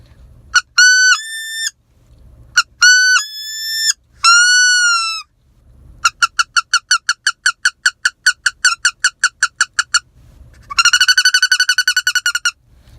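A duck call blown to mimic a wood duck greeting call: a few drawn-out rising squeals, then a quick run of short rhythmic peeps and a final rapid trilling burst, all close and loud with no talking.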